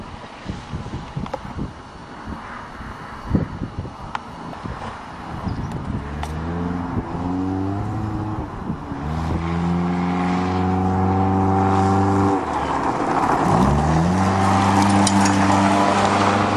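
A 1992 Toyota Corolla spins its wheels while driving on a farm, the engine straining louder and rising in pitch through two long revving pulls, with wind buffeting the microphone and bumps early on.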